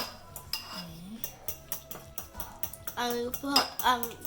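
A whisk rattles rapidly against a bowl as a quinoa salad dressing is mixed, a close, steady run of metallic clinks and taps, with a voice speaking briefly over it toward the end.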